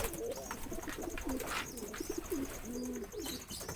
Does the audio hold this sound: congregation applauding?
no